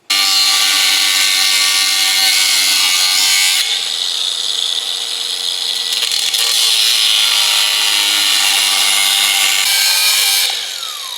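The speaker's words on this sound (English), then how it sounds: "And then with a cutoff wheel," A cutoff wheel grinds through a car exhaust pipe, a very loud, piercing high-pitched metallic whine that holds for several seconds, dips slightly in tone midway as the cut deepens, then rises again before tapering off.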